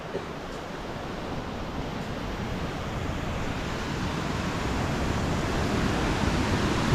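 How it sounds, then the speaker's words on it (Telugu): Surf rolling in at high tide on Bapatla beach, a steady, dense roar of breaking sea waves that swells slightly louder over several seconds, with no voices. "మంచి పోటు మీద ఉంది ఏ సముద్రం అయితే."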